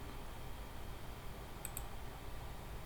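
A quick pair of computer mouse clicks, soft and close, against a faint steady room hum while working in CAD software.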